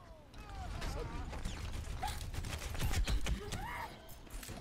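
Gunshots in the Overwatch shooter pop in clusters of sharp bursts amid clattering game effects, with people talking over them.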